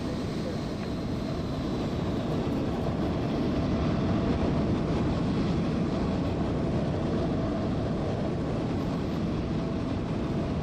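An airliner takes off from Hong Kong in Microsoft Flight Simulator 2020. Its engines make a loud, steady roar and broad rumble that holds unbroken throughout.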